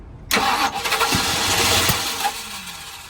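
A classic car engine being started with the key while the gas is pressed, before an old road rally: a sudden loud crank catches into a rough, popping run that settles and fades slightly, with no talk.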